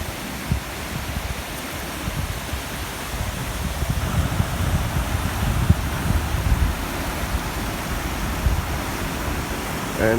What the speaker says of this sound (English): let's show you some more of those waterfalls